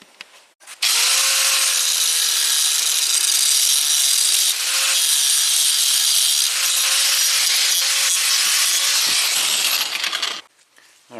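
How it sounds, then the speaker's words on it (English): A bolt on a Jeep Rubicon being cut and ground to length with a power tool, loud continuous grinding and cutting for about ten seconds, with slight pitch changes as the tool loads, then it stops. "I'll cut it to the same length as this one, grind it off"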